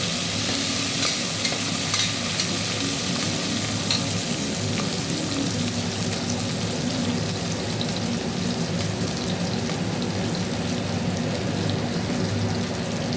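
Ingredients for tomato rice fry in a pan, giving a steady close hiss and crackle punctuated by light stirring clatter, with no talking.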